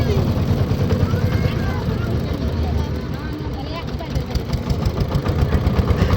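A trawler boat engine runs steadily on a river during rain, a continuous low mechanical drone filling the background under faint voices.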